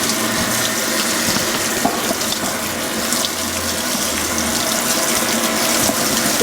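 A Fisher & Paykel washing machine fills with water during a normal laundry load: a steady, close rushing gush like a running tap that holds even for several seconds, with faint clicks underneath.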